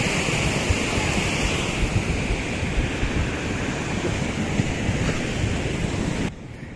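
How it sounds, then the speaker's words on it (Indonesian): Rising floodwater rushes loudly and continuously during a sudden flood, a dense roaring wash mixed with wind buffeting the microphone, steady throughout before cutting off abruptly at the end. "Airnya semakin besar, banjirnya semakin besar."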